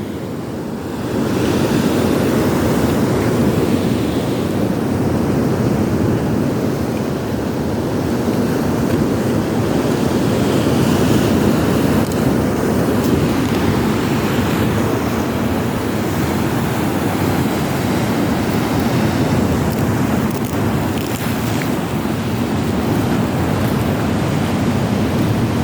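Loud, continuous roar of strong sea waves and surf with wind buffeting the microphone, heard while out fishing, a dense, unbroken wash of noise with no voices.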